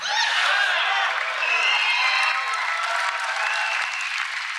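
Applause from a MAGA crowd at a Trump rally in Clive, Iowa, a steady, dense roar of clapping mixed with cheering voices that holds loud through the whole stretch.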